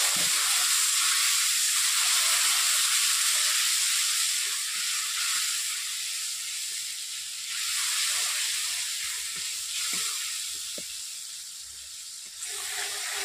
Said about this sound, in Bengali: সবগুলো মশলা দিয়ে আমি এখন কষিয়ে নিচ্ছি ভালো করে।